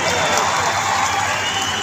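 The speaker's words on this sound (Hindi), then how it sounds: "देखिए ताली और बजा रही है" Audience applause at a political speech, a dense continuous clapping from a large crowd, loud and unbroken throughout the short stretch.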